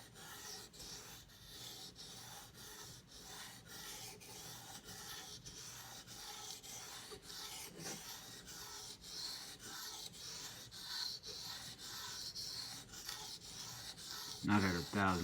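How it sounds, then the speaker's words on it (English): Knife blade stroked on a 1000 grit whetstone, a quiet, rhythmic series of rasping scrapes repeating about once a second, close to the microphone, with a brief clatter at the end. "I'm not going to spend a lot of time sharpening this one because it really doesn't need it."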